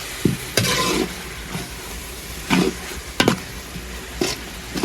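Spices for bhuna khichuri frying in a pan, a steady sizzle broken by several sharp scraping strokes of a spatula, close and fairly loud, with no talk.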